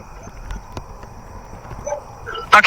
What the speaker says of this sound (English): someone's dog is barking at me